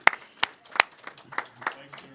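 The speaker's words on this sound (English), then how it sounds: "But everybody just give a round of applause for Travis right here." A small group claps briefly for a college football player at a press conference, a handful of scattered, uneven claps heard nearby over a few seconds, mixed with talk.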